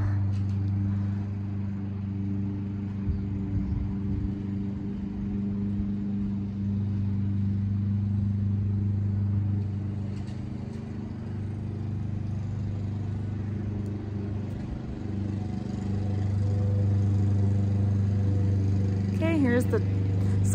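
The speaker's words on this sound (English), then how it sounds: "Sorry, there's a lawnmower in the background." A lawnmower drones steadily in the background, a low, continuous engine hum that swells slightly near the end, with a person talking over it throughout.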